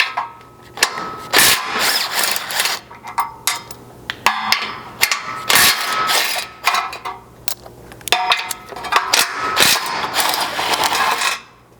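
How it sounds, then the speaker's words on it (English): A 15mm socket wrench ratchets out crash bar bolts on a ZR2 Colorado front bumper, close and loud in quick bursts of clicking and metallic clanks separated by short pauses. "grab a 15mm socket and remove the 3 bolts in here per side to remove this crash bar"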